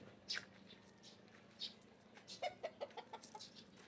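Chickens, young roosters (stags) and hens cluck and call in a farmyard, short scattered squawks and a burst of quick clucks near the end over a low steady background hum.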